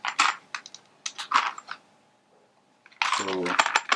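Typing on a USB RGB gaming keyboard produces bursts of close, crisp key clicks, pausing briefly before a denser run of rapid keystrokes returns at the end.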